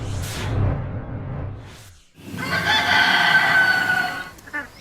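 A backyard flock of chickens and ducks: low clucking at first, then a loud, drawn-out rooster crow close by, with another short call at the end.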